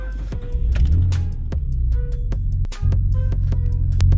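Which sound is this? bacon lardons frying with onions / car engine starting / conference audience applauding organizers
car engine starting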